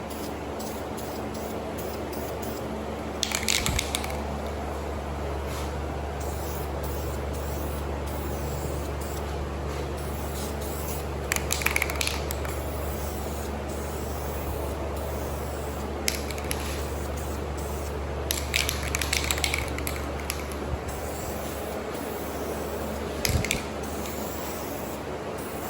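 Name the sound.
spray painting truck trim with matte paint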